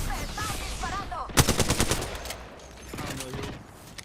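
Enemy gunfire in a shooter video game: a burst of rapid automatic shots lasting about a second. A voice speaks before the burst and faint talk follows it.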